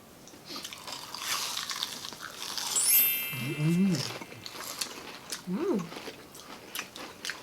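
Close, crunchy biting and chewing of grilled pork and fish fillet under background chatter, with a couple of short wavering tonal calls in the middle.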